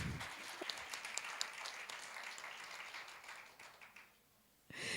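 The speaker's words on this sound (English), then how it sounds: "we can clap for ourselves" Faculty at a school training program clapping for themselves, soft and somewhat distant applause that holds steady, then fades to near silence before a brief return at the end.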